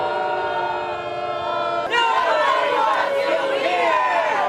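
A crowd jeering Senator Ron Johnson, loud massed shouting and booing that surges louder partway through, with individual voices yelling over the din.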